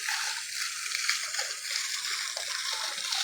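A creek flows steadily, a close, bright wash of rushing and splashing water with no break across the short stretch.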